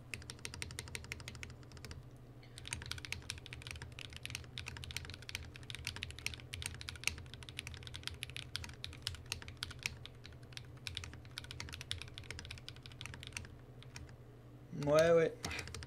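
Steady typing on a FinalKey V65 R2 keyboard with foam inside, a dense run of close key clacks over low background hum, ending with a brief louder burst near the end.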